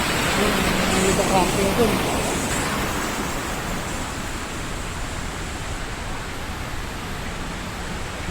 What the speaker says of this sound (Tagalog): Ito may mini waterfall to.